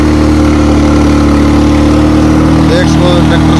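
A 2001 New Holland tractor engine runs loud and steady at close range, with a constant low droning throb and faint voices near the end.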